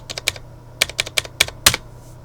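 Computer keyboard keys tapped while entering a phone number into a software form field: a dozen or so crisp, close clicks in uneven bursts, with short pauses between groups and no talking.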